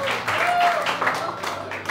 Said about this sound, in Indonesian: Tepuk tangan untuk Pak Cherry.